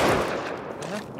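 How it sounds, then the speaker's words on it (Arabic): A single AK rifle shot in the game Rust, a loud sharp crack at the start that decays into a reverberant tail under game noise. "في واحد ضرب اي كي طلقة واحدة"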